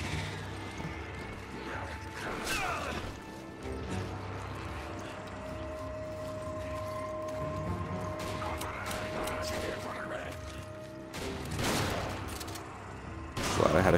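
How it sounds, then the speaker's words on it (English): Shotgun blasts in Resident Evil 5 during a fight against surrounding enemies, with a few heavy booming shots spaced far apart amid busy game noise and scuffling, the loudest blasts near the end. "Glad I had a shotgun."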